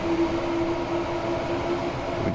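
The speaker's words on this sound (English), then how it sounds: "But look at my train." A train running in Train Sim World 3 gives a steady, loud rumbling drone with a constant tonal hum throughout, no voices over it.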